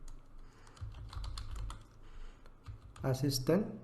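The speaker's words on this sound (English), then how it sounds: "So here in a search just type Spring" Computer keyboard typing on a laptop while setting up a plugin in an IDE, quick irregular key clicks close up, with a person speaking over most of it.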